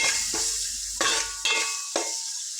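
Tomatoes frying in a pan for a small-fish curry, a loud steady sizzle broken by a few sharp stirring scrapes and bursts of louder crackling, with no talking.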